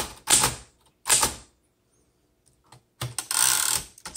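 Bursts of key strikes and carriage clatter on a 1926 Underwood Four Bank typewriter, close and crisp, with a pause in the middle before a longer run of rapid typing.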